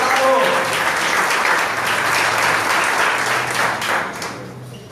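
A church congregation at a family service applauds parents, producing a loud, sustained wash of clapping from a large crowd that holds steady for several seconds, then slowly tapers off.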